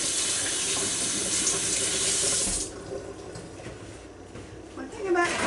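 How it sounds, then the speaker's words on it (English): Tap water runs into a kitchen sink as hands are washed while salmon patties are made. A loud, steady close-up gush lasts about half the time, then settles to a softer, uneven splashing. "Alright, wash my hands again."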